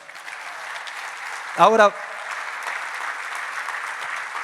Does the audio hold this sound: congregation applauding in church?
yes